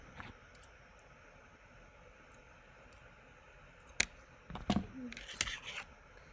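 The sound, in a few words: scissors snipping long thread ends while sewing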